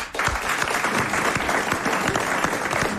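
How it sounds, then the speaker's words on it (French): Studio audience applauding a contestant on a French radio quiz show, a dense, steady wash of clapping that stays loud and close for the full three seconds. "on l'applaudit"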